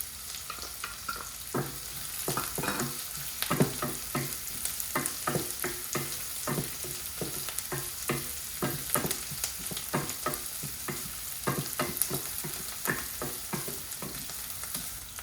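Four finely chopped green chillies frying with onion in a pan for Gujarati aloo poha: steady close sizzling broken by repeated scraping stir strokes throughout, with no voices.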